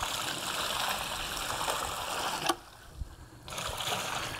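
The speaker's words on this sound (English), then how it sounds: "Let's go ahead and get our water in." Water pours into dry concrete mix, about a gallon, a soft continuous gushing trickle at close range that stops abruptly partway, with a brief quiet gap before pouring resumes.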